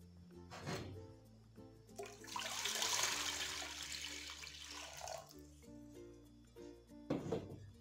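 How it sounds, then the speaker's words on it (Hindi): Milk poured into a cooking pot for a colourful milk sweet, a steady liquid rush rising and falling over several seconds, close and fairly loud, with soft background music. "सबसे पहले डालूंगी मैं दूध।"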